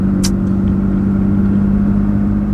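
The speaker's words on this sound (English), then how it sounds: "driving over the dirt, getting my car dirty" A car engine hums steadily at close range while driving over dirt, a constant low rumble with a brief sharp crackle near the start.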